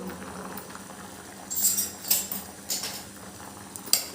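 An onion and garlic mixture bubbles quietly in a pan, with a low simmer underneath and several sharp clinks of a metal utensil against the pan, close and without talking.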